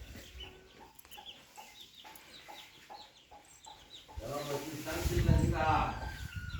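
Chickens cluck and squawk around a village sheep shed, with several short calls at moderate distance and a louder burst near the end, while someone talks nearby.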